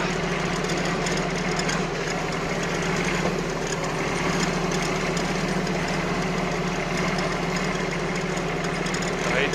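A Kubota Aste A15 tractor in third gear on a field road gives a steady, loud diesel drone that runs unbroken and close throughout, with a faint knocking texture.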